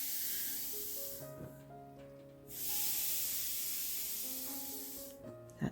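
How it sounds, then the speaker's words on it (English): A steam iron pressing a hooked mug rug through a damp pressing cloth gives two long, steady hisses, one at the start and another lasting several seconds, with a soft background tune underneath. "I'm going to steam press"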